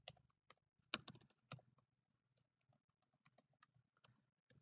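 Sparse keystrokes on a computer keyboard while HTML code is entered, a few closely spaced clicks near the start, then scattered faint taps, quiet and close.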